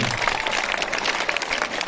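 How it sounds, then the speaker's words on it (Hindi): Applause welcoming guests at a school scholarship ceremony, a short burst of many hands clapping in a brisk, even patter, fairly loud and close. "उनका जोरदार तालियों से स्वागत कीजिए"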